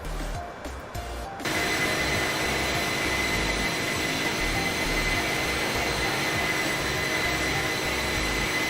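Steady, loud turbine roar of iniBuilds A300 airliner engines in Microsoft Flight Simulator, a constant broadband whine and rumble that kicks in after a short quieter start and holds without break.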